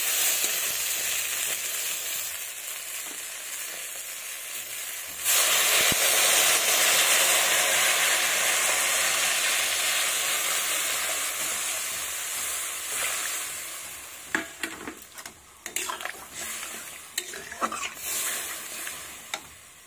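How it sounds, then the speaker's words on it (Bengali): Water splashes into a pan of sizzling fried spice paste for a light Bengali curry of mixed river fish with bottle gourd shoots. Steady frying sizzle bursts into a loud, close hiss, then eases into an uneven, crackling bubble. "এবার দিয়ে দেবো পরিমাণ মতো জল।"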